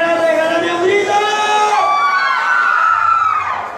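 Live concert crowd at a youth music event in Cochabamba shouting and cheering on request, a loud sustained roar of many voices with high whoops and screams rising and swelling throughout.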